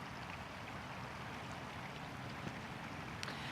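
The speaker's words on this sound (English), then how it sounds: "This is the Stilly River." Steady broadband rush of the Stilly River flowing near its meeting with the South Fork, a continuous close wash with no talk over it.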